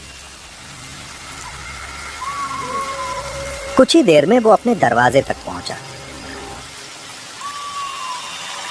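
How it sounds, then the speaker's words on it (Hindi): Steady rain patters throughout, with someone speaking over it in the middle and a faint tone now and then. "तभी एकदम से बारिश फिर से शुरू हो जाती है।"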